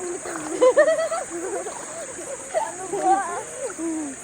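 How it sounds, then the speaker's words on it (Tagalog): Water splashes and sloshes as laundry is washed by hand in a river, under the louder chatter of several people talking nearby. "Maglalaba tayo sa ilog."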